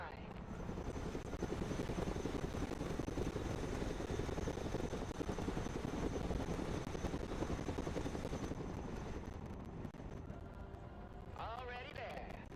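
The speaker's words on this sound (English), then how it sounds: "Flight path updated. Chinook standing by." A Chinook twin-rotor helicopter flies in the Broken Arrow video game, its steady loud rotor thump and engine roar continuous throughout, thinning slightly near the end while a voice speaks over it.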